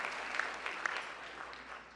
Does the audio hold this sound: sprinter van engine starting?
no